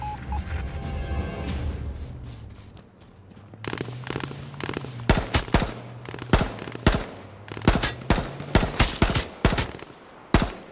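Game gunfire in the battle royale H1Z1: rapid bursts and sharp single shots crack close and loud, growing denser and punchier toward the end, with no talk over it.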